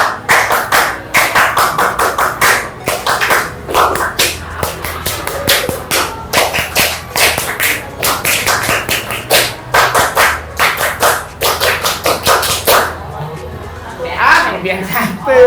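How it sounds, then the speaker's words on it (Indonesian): A group claps the Indonesian scout rhythm (tepuk pramuka) in a classroom, sharp loud hand claps in quick patterned bursts repeated over and over, close by, with brief pauses between rounds. "Tepuk pramuka"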